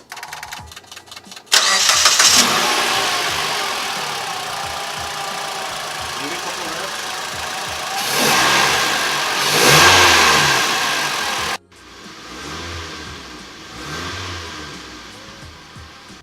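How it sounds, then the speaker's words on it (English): A 2014 Mitsubishi Lancer fitted with a Takeda short ram intake cranks and catches, then settles into a loud steady idle. It swells through two rev surges before cutting off abruptly, and the engine hum resumes afterward. "Gonna start up the car now for the first time with the new intake."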